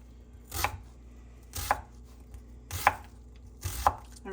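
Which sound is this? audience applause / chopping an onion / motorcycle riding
chopping an onion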